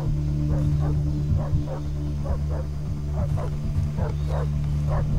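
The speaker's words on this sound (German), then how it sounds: "Da ist ein Hund." In the video game Far Cry 3, a dog barks repeatedly in short yelps at a moderate distance over a constant low hum of game ambience.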